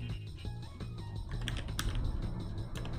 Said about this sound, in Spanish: Escribilo con el teclado.